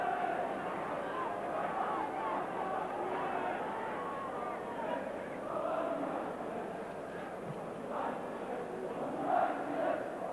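Football crowd at a Liverpool v Spurs FA Cup fourth round match, a steady roaring hum of thousands of fans with swelling surges, heard under continuous match commentary.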